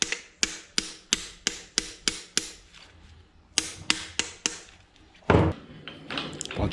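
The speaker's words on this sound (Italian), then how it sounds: "Bene, una martellatina." Quick sharp hammer taps on the bushing of a DNM AO42RC rear shock absorber being fitted to an e-bike: a steady run of about eight close metallic strikes, a pause, then four more and a heavier knock.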